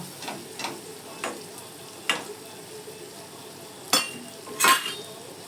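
Fish fries in a pan on a medium gas flame with a soft continuous sizzle, punctuated by several scraping and clinking strokes of a spatula against the pan; no voices.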